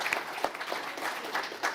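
Brief, light applause from a conference audience, scattered clapping at moderate volume over a short moment.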